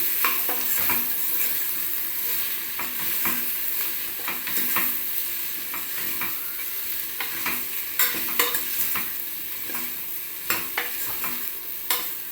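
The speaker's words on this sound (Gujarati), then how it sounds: "અને પછી તેમાં આ મિક્સ વેજીટેબલ આપણે નાખી દઈએ અને હલાવી દઈએ" Mixed vegetables for dal khichdi sauté in a pan, a steady close sizzle punctuated by frequent rhythmic scrapes and clacks of the stirring spoon, with no talking.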